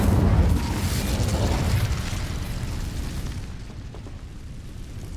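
The Incendio fire spell cast in Hogwarts Legacy: a loud burst with a deep booming whoosh that fades away over several seconds.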